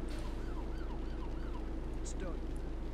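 In the Emergency 4 video game, an ambulance siren wails at moderate distance while it arrives, a repeating rising-and-falling tone over a steady low engine hum.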